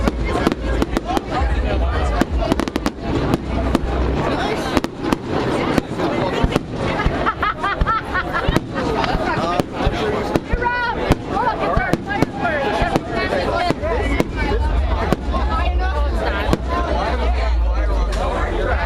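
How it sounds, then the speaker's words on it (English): Fireworks shows bursting over a July 3rd celebration, a steady dense barrage of pops and booms heard continuously, mixed with crowd chatter and voices throughout. "See all the fireworks shows going from above."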